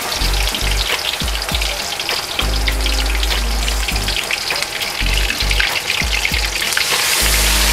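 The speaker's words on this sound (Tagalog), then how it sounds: "Magpiprito na tayo nung ating chicken" Chicken pieces frying in very hot oil, Kanto-style, with a loud, dense crackling sizzle and intermittent low thumps and pops, close and continuous for the whole stretch.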